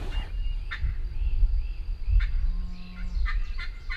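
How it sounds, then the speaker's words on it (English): Wild turkeys gobble during a Kansas turkey hunt, in several short, rattling bursts, some close and loud, others farther off, over a low wind rumble. "all of a sudden they gobbled right above me"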